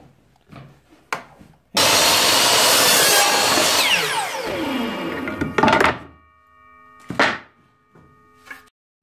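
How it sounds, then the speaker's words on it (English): A 96 inch wooden board is cut into 24 inch sections: a loud, close cut runs about four seconds and winds down, followed by a few separate knocks and thunks of wood, with no talking. "make a measurement and cut it. And with a 96 inch board you should get 4 24 inch sections."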